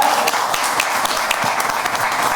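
A crowd breaks into dense, sustained applause to welcome the cast at a trailer launch event for a Netflix survival drama series. The clapping is loud and steady and continues the whole time without a break.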